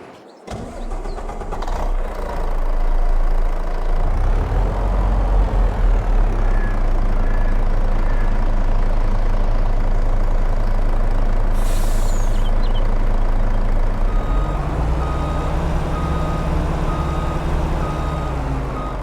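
A truck in Farming Simulator 22 starts up and settles into a steady, loud low idle, with a brief air-brake hiss and reversing beeps sounding near the end.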